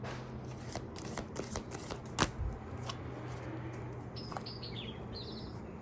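Tarot cards are shuffled close by in a quiet room, giving a rapid series of soft riffling flicks and taps, with faint birdsong in the background.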